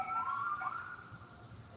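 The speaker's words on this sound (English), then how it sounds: "the siren stopped right outside, like pretty close to my damn house" An emergency vehicle siren wails outside a house, a steady high-pitched tone sliding slightly in pitch, moderately distant and fairly quiet, with no one speaking.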